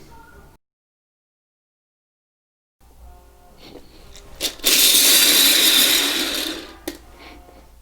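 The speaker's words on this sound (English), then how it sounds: "I put tape on this drill bit because I don't want to go any deeper than that." A handheld drill with tape wrapped on its bit bores a shallow pilot hole into wood, a loud steady whine lasting about two seconds after some quieter handling noises, ending with a short click.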